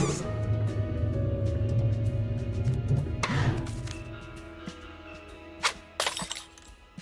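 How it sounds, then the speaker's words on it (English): Glass shatters in the video game Loco Motive, a sharp crash with scattered clinks and tinkling fragments that trail off over a low, steady game background. "I heard a shattering noise."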